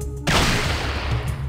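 Gunfire erupts in the Fallout 2 video game, a sudden loud burst that keeps going as a dense, sustained roar of shots with no talk over it.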